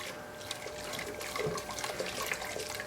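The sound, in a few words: straining homebrew beer wort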